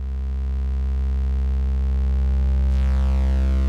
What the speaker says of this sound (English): If I bring up the sine wave, we can hear the ring modulator